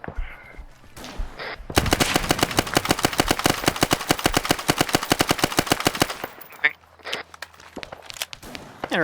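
Rapid automatic gunfire in a military video game featuring an MP40, a sustained loud burst lasting several seconds followed by scattered single shots, with voices talking around it.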